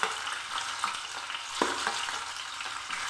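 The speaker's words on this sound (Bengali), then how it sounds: "মাছ ভেজে নেব।" Rohu fish pieces frying in hot oil in a kadai, a dense continuous crackling sizzle with occasional sharp pops and light clicks, close up with no talking.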